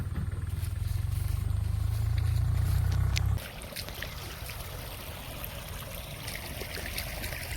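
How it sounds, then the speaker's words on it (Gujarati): Water runs from a cracked pipe into a field: a heavy, low, steady rush for about three seconds, then it drops to a lighter, hissing trickle that continues to the end. "તો ફાઇનલી પાણી ચાલુ થઈ ગયું છે."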